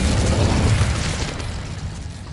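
Incendio, a fire spell cast in the Hogwarts Legacy video game, makes a loud, close, roaring burst with dense rumbling that gradually fades away over a couple of seconds.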